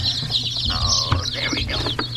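Laying hens cluck and chatter close by inside a snowy Alaska coop, making soft overlapping calls and a brief rising squawk over a constant background hum.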